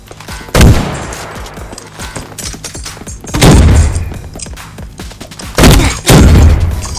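Gunfire from a G40X rifle in a video game gunfight, coming as three loud, close bursts of shots spaced a few seconds apart over a low game background.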